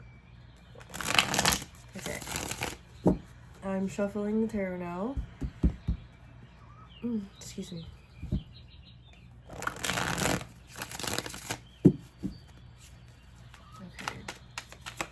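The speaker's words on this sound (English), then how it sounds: "I'm shuffling the tarot now." Tarot cards are shuffled in two loud, dense bursts of riffling and flapping, each lasting a couple of seconds with a pause between. A person speaks briefly in the gap, and a few softer card taps and rustles come after.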